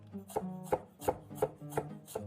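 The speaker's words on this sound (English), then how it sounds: "I'm gonna just trim the tops and bottom of our celery." Knife chopping through celery on a cutting board, trimming tops and bottoms, six crisp evenly spaced thunks about a third of a second apart, close and clear with no talk.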